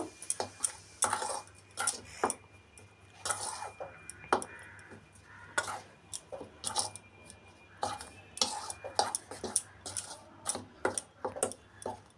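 Baking powder being mixed into homemade cake batter with a spoon, a quick run of light scraping clinks against the bowl at a steady, irregular rhythm, close and fairly quiet with no voices.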